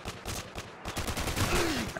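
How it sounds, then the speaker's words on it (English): Dense bursts of automatic gunfire and rattling shots crackle continuously in a Modern Warfare 2 multiplayer match on the Estate map, loud and close throughout. "And I see bullets flying."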